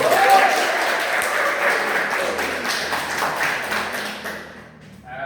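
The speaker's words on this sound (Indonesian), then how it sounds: "Bagus sekali, tepuk tangan." A classroom full of students claps together in a sustained burst of applause that fades out near the end.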